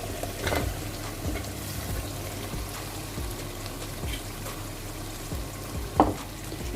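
Potatoes frying in a spiced masala for aloo gobi, a steady sizzle with occasional stirring clatters and one sharper knock near the end, no speech.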